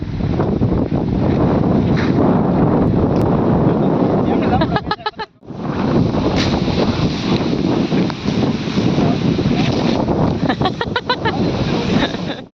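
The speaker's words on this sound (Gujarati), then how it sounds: "વાડીને પવન આવે છે" Strong wind sweeps across a farm and buffets the microphone in a loud, continuous roar that drops briefly in the middle, with voices faintly underneath.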